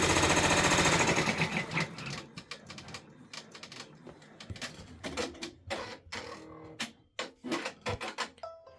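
A Brother embroidery machine stitches out an OESD gingerbread village freestanding bridge, its needle chattering in fast, busy mechanical bursts with brief pauses and clicks, close and steady throughout.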